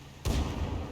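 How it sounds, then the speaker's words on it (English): A tank cannon fires in a tank video game featuring the AMX 13 105 and a Challenger, one sharp heavy boom with a rumbling tail close up, no talk. "the Challenger misses with his first shot"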